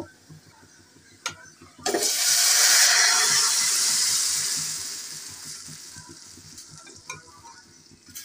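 Onions frying in hot oil with bay leaf, dried chili and whole spices: a loud burst of sizzling erupts after a couple of sharp clatters, then slowly fades back to a soft hiss with occasional utensil knocks.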